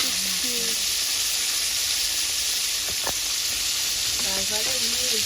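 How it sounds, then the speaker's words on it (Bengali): Marinated katla fish fries in hot oil for doi katla, making a loud continuous hissing sizzle with a couple of brief sharp clicks, while a voice speaks faintly in the background. "মাছটাকে ম্যারিনেট করে এবার তেলের উপরে দিয়ে মাছগুলো আমি ভেজে নিচ্ছি"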